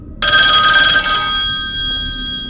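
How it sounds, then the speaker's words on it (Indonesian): A home telephone rings loud and close, a bright electronic trill that starts abruptly, holds steady, then thins out and fades as it trails off. "telepon rumah berbunyi"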